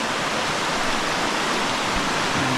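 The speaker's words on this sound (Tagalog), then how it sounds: "Lalaki ng ilog" A large river runs in a steady, full rushing wash of water that holds even and unbroken throughout, with no voices.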